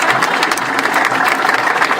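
Crowd at a union march applauding loudly and steadily, a dense outdoor clatter of many hands clapping with no break.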